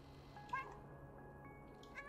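Cat in the video game Stray giving a short, faint meow, a single brief cry over a quiet background.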